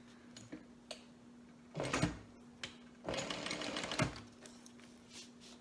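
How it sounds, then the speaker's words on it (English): A home sewing machine runs in two short bursts, stitching a quarter-inch seam around three edges of a small fabric piece, with soft handling clicks and a steady low hum between the bursts. "I'm just going to sew all the way around all three edges."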